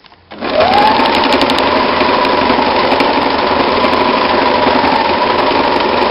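A sewing machine starts up and runs steadily at speed, stitching reinforcement along the straps of a fabric tote bag, its loud, even mechanical whir continuing close by without pause.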